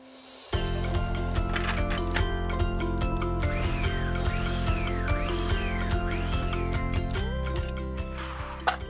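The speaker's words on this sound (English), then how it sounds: "So I'm going to place all of these corn kernels into a food processor" A food processor blitzing corn kernels into a puree gives a steady, loud motor whine with a grinding, whirring churn on top. Near the end its pitch drops, and there is no talk.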